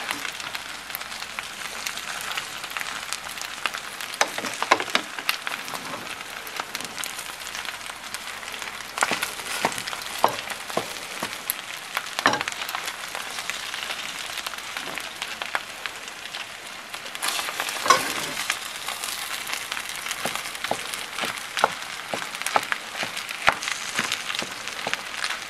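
Spicy egg fried rice sizzles and crackles in a hot pan as it is stirred, a steady close hiss broken by scraping and tossing clatters, with no voices.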